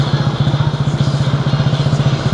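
A number 42 modified racing machine idles in lane two at the start line with a loud, close, lumpy pulsing rumble that beats steadily and evenly, with no voices over it.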